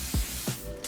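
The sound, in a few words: spraying hard head bed head holding spray on wig lace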